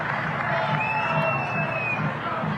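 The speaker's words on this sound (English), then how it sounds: "The crowd really getting involved in every defensive effort now." A football stadium crowd at an A-League match between Brisbane Roar and Sydney FC gives a steady, roaring cheer, with a commentator talking over it.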